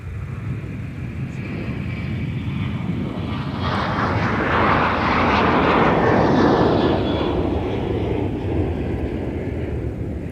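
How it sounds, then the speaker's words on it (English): Sun Country Flight 107, an airliner departing Minneapolis–St. Paul airport for Las Vegas, gives a broad jet roar that swells from about four seconds, peaks loud near six to seven seconds, then eases off, with no talking. "Speaking of Sun Country, that's Flight 107 to Las Vegas"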